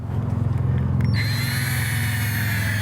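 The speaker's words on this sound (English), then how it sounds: "what you're doing now is you're polishing it" A power drill fitted with a buffer pad whirs steadily while it polishes a badly weathered car headlight. The tool is close, and its pitch rises and steadies after a brief bump partway through.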